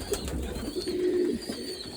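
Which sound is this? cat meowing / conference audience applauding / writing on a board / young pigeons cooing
young pigeons cooing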